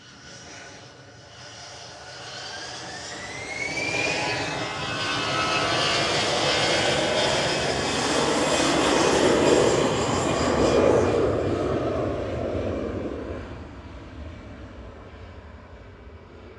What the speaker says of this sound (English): That's EasyJet just heading off to Bilbao with flight 2005, operated by GEZTT, A320 Classic there.